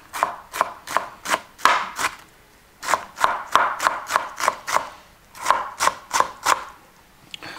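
A knife dices food into cubes on a cutting board for pork neck in leek sauce: steady, evenly spaced sharp chops in two bursts with a brief pause, close and loud.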